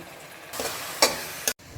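Ground tomato pulp is tipped into a hot pan of country chicken curry, bringing a burst of loud sizzling and frying hiss that flares twice before cutting off abruptly, with no talk.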